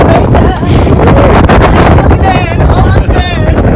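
Strong wind buffets the microphone on a road trip toward Calgary, a loud continuous roar and rumble filling the whole clip, with faint voices and squeaky sounds mixed underneath.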